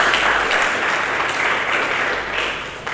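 A church congregation gives a dense, loud round of applause for Jesus during a Sunday Christmas-season service, sustained without a break and tapering slightly near the end.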